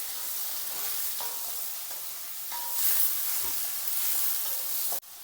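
Tomatoes sautéing in a hot pan for a simple lunch dish, a continuous close sizzle with occasional stirring scrapes, no voices.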